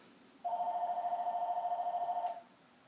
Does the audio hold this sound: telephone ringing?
yes